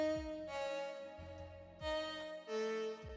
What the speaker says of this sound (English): The like an extra lead melody for the second half of the hook sounds like this.